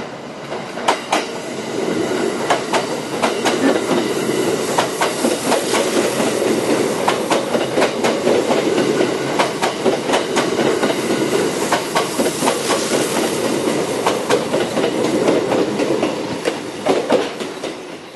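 The Japanese limited express Hakutaka departs Naoetsu station, rolling with rhythmic clickety-clack of wheels over rail joints, a steady rumble gathering pace as it runs along.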